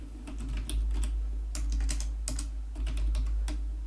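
Someone types on a computer keyboard in quick irregular bursts of clicks, close and clear over a low steady hum, with no talking.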